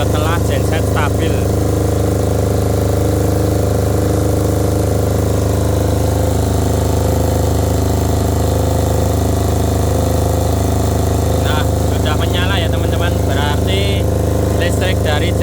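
Krisbow 5 kVA generator running for a fish pond setup, a loud, steady low engine drone holding throughout, with someone talking over it near the start and again near the end.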